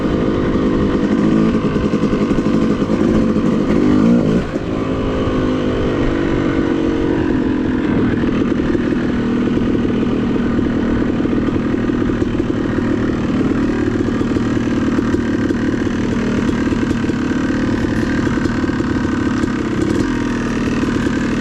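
Off-road dirt bikes on a mountain OHV trail give a loud, continuous engine drone that stays close throughout, with a brief throttle shift early on and no talking.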